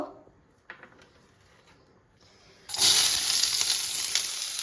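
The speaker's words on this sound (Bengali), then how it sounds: "কড়াইয়ে তেল দিয়ে দিয়েছি এখন পেঁয়াজগুলো দিয়ে দেবো" After a few quiet clinks, a loud, steady sizzle erupts as onions drop into hot oil in a kadai and keep frying.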